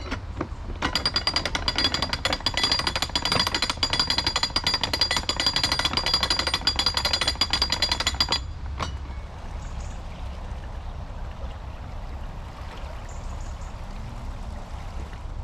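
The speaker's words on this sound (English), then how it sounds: "I've got to open those paddles to let water into the lock and fill it up" Water rushes and churns into a canal lock through opened paddles, a loud, dense roar that cuts off abruptly partway through and leaves a quieter, steady flowing wash.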